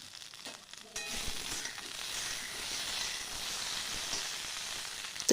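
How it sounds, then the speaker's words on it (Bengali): Sliced okra fries lightly in hot oil with nigella seeds, giving a steady close sizzle that begins abruptly about a second in and holds as a continuous bright hiss, with no talking. "ভেন্ডিগুলোকে হালকা করে আমি ভেজে নেব।"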